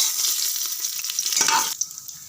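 Fennel seeds, bay leaf and cinnamon hit hot oil for chicken biryani, giving a brief bright crackling sizzle that swells and then settles, close and alone.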